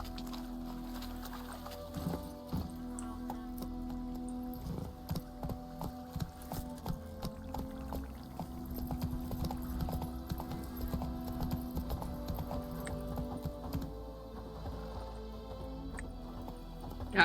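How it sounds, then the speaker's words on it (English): Steady clip-clop of horse hooves trotting along in a video game, fairly close and even in rhythm, over a low constant hum with occasional faint background sounds. "Here's my horse."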